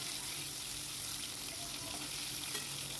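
Hilsa fish frying in oil gives a steady, dense sizzle that stays fairly even throughout, with faint clinks and a little background noise and no talking.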